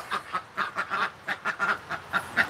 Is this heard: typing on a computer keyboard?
no